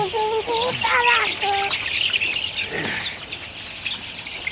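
High, repeated peeping chirps from young chicks, busy and fairly close, with steady background noise throughout.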